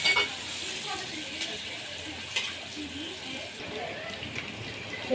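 Onion and potato sautéing in a pan for khichdi, a steady soft sizzle with occasional stirring scrapes, with faint talk now and then.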